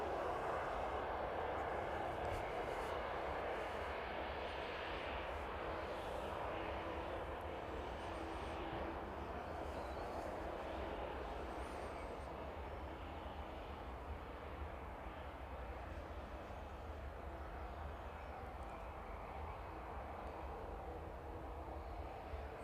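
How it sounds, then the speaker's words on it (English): Ryanair airliner with retrofitted winglets taxiing past at an East Midlands airport in the evening, a steady, distant jet engine whine and rumble holding level throughout, with no talk over it. "Let's have a look round at the Ryanair then as it makes its way past us this evening."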